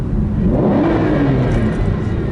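A powerful Aston Martin DBS engine revs and roars steadily from inside the car, a deep continuous rumble with a slight rise in pitch.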